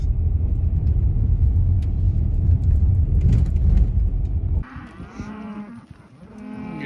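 A low engine rumble fades out, then cattle moo loudly nearby, several drawn-out calls overlapping one another, as cows are gathered into a corral.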